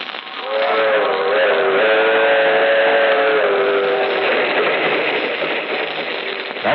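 A passenger train rumbles steadily along the rails, a loud continuous roar with humming tones that slowly shift pitch, heard as if from an old, narrow-band recording.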